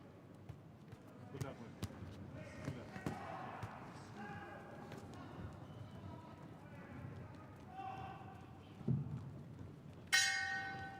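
A boxing ring bell sounds at the start of round one at a youth world boxing championship bout, a sharp bright strike near the end over steady arena crowd noise and commentary.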